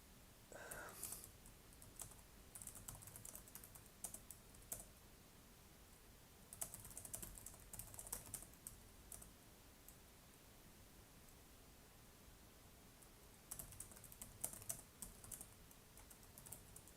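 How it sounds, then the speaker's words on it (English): Fingers type on a computer keyboard in quiet bursts of soft clicking separated by pauses, set against a steady low background hiss. "I was just typing that over onto a social"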